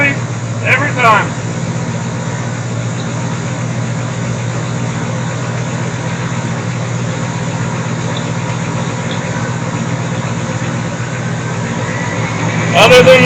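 A small block Chevy V8 in a 1975 GMC C10 idles steadily up close with a rough exhaust note, a brief rev at the start and another rising at the end.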